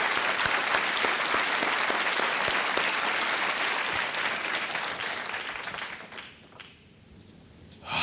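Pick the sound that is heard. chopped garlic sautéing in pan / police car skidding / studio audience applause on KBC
studio audience applause on KBC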